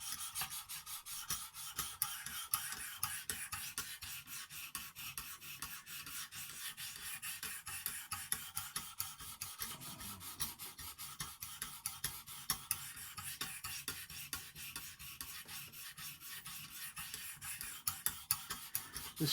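A knife of CTS 204P steel, a Stedemon A01A, is drawn across the fine diamond stone of a Lansky guided sharpener, giving close, continuous rhythmic rasping strokes with no talking.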